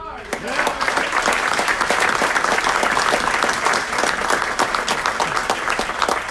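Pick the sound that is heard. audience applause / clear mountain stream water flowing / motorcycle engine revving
audience applause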